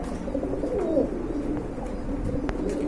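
Low, soft coos of large pigeons for sale repeat through a steady murmur of background noise, with a few faint chirps and clicks nearby.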